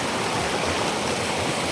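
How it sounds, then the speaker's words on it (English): A river flows near a waterfall in Embu, Kenya, giving a constant, dense rush of water that stays loud and unbroken throughout. "you can see this river."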